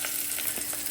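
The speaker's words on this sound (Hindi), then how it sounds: "तो यहाँ मैंने तड़का बना लिया हुआ है, और इसके ऊपर हम लगाएंगे देसी घी का" Desi ghee tadka tempering sizzles in a pan: a dense, continuous hiss of hot fat crackling close and loud throughout, with no voices over it.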